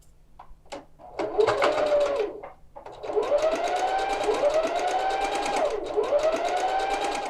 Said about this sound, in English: So with this sewn, I'll just repeat the same process on the other side for the other cuff.